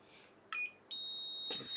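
Short electronic beeps sound in a quiet room: one brief high tone, then a longer sustained beep, followed by a soft rustle.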